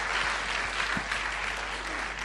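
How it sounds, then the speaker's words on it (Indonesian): Thick, continuous applause fills a church hall during a question-and-answer session, a crowd clapping at an even, loud level throughout with a low steady hum underneath. "Wow, tepuk tangan dong."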